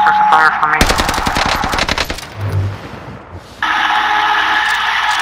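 Rapid automatic gunfire rattles loud and close in Call of Duty Warzone, a dense burst of shots running for over a second before cutting off, followed by quieter game sounds and a sustained tone.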